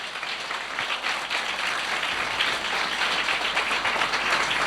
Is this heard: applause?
yes